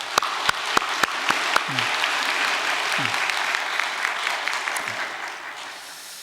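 Audience applause after a family reads a text aloud at a Korean-Japanese sister-relationship church service, a steady dense clapping with a few sharp close claps and brief voices underneath.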